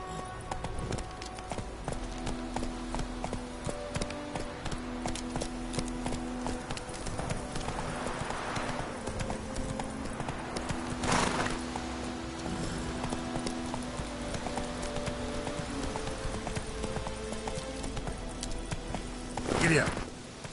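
A horse galloping in The Witcher 3: Wild Hunt, a steady rhythmic clip-clop of hooves throughout with game music and a few brief louder bursts, a voice speaking over it.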